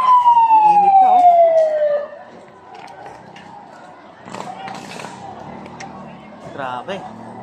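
A fire truck siren wails loudly as the engine arrives at a house fire in San Dionisio, Parañaque, its tone sweeping downward for about two seconds before fading into street commotion, traffic noise and scattered voices.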